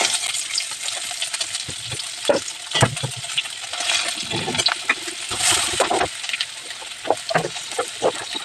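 Onion, green chilli, crushed garlic and curry leaves frying in hot oil for a tempering, with a steady close sizzle broken by frequent clinks and scrapes of stirring.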